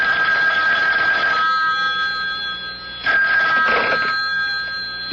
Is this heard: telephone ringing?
yes